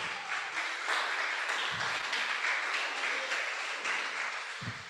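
Congregation applauding during a church service, a steady wash of many hands clapping together for about five seconds, with a faint voice or two underneath.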